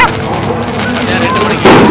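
Firecrackers bursting at a Diwali celebration in Africa, a dense crackle of pops and bangs over a steady noisy background, growing louder near the end, with people talking nearby.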